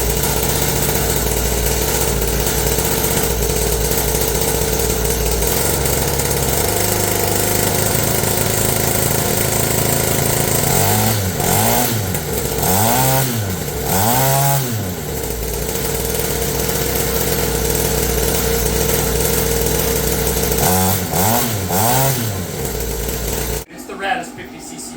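A ported 50cc two-stroke pit bike engine runs steadily and loudly, with a continuous buzzing drone and a few revving swells near the middle, then cuts off abruptly at the end.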